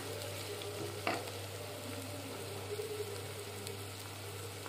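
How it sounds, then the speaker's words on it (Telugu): Onions sizzle in hot oil in a pan while cooking prawn pulusu, a steady crackling fry with one brief clatter from stirring, close and continuous with no voices. "ఆయిల్ వేడెక్కింది, ఉల్లిపాయలు వేసుకున్నాం. ఇవి బాగా బ్రౌన్ కలర్ వచ్చే వరకు వేయించుకోవాలి."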